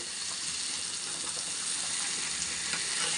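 Chicken breast pieces fry in oil with a steady, close, dense sizzle and crackle that holds evenly throughout, with no voices.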